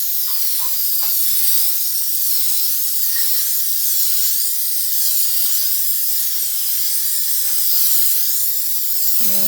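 Rust-Oleum appliance epoxy hisses steadily from a spray can as a refrigerator is refinished, a close, continuous spray that runs almost unbroken, with a few faint knocks and bumps in the background.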